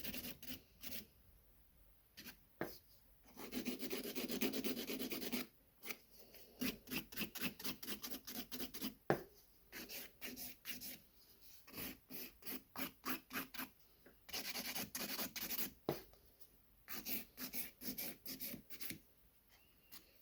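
A nail file rasps over stiletto nails in quick back-and-forth strokes, close and soft, coming in bursts of rapid scratchy passes with brief pauses between them.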